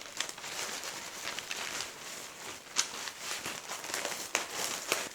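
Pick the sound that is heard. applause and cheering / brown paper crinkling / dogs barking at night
brown paper crinkling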